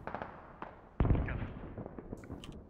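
Rocket fire in the tactical shooter Squad lands as a sharp, heavy blast at mid-clip and rumbles off, with smaller distant pops and thuds scattered before and after it.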